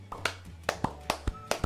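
Hands clapping several times in a quiet room, sharp close slaps spaced irregularly with a faint hum underneath.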